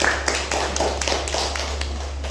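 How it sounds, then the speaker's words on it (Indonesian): Scattered hand claps from a classroom audience applauding a student's question during a lecture, a loose run of quick taps of moderate loudness with no talking over them. "Oke, tepuk tangan dulu dong untuk pertanyaan."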